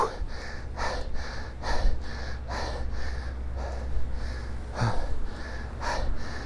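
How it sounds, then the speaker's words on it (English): Heavy rhythmic panting from a cyclist labouring up a steep hill, breaths close to the mic in regular bursts about every half second over low outdoor rumble. "I might have to edit out my panting."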